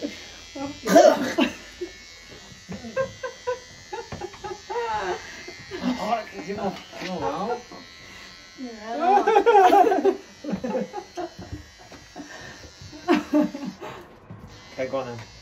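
Electric clippers buzz steadily while cutting hair for a bowl haircut, running close up under frequent chatter and brief laughter.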